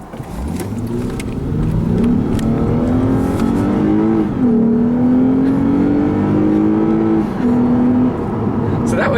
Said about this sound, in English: that right there was a run to about 60 miles an hour